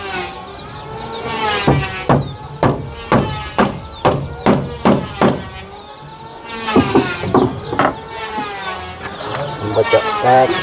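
Hammer driving nails into metal sheet roofing, a run of sharp, evenly spaced loud strikes followed by a pause and then a further cluster of blows, close by.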